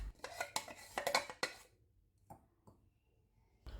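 Ground curry masala powder of coriander and spices scraped from a mixer jar into a vessel, with a burst of quick scraping and tapping clinks, then a few isolated soft knocks and a final thud.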